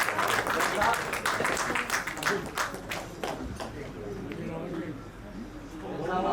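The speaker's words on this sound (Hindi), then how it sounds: "मैं चाहता हूं पुनः जोरदार तालियों से आप सभी सहयोग प्रदान करें" An audience welcoming a guest at a Hindi-language gathering gives a burst of dense, fairly loud applause that thins out and fades after a few seconds into quieter room noise.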